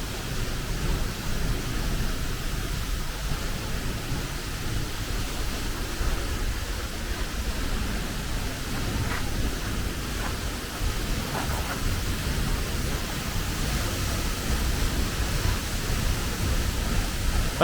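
Kvanofoss waterfall in Iceland roars as a dense, unbroken wash of falling water, heard up close from behind the cascade, steady and loud for the whole stretch with no voices.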